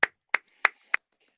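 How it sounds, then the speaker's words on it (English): Four sharp, evenly spaced hand claps on a comedy quiz panel show, close and alone with no talk, forming a brief, sparse round of applause. "Round of applause for Brian, please."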